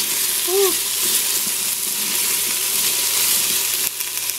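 Squash pieces browning in an Instant Pot give off a steady, loud hiss of frying. A faint wordless voice sounds once near the start over the continuous sizzle.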